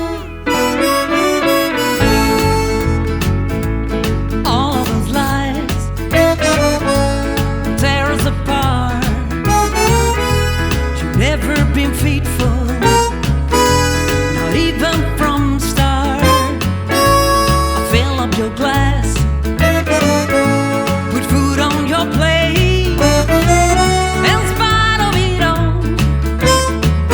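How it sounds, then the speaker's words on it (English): A 12-hole C chromatic harmonica, an Expression model, plays a melody over a dense backing track, loud and continuous with sustained reedy notes throughout. "So I opted for a chromatic harmonica."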